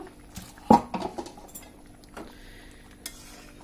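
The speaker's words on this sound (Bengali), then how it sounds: "এখন আমরা ঢাকনাটি খুলে দেখব আমাদের ডালটার কি অবস্থা।" Metal lid lifted off a pot of dal cooking on the stove, a sharp clink followed by a few lighter metallic taps and rattles, close and otherwise quiet.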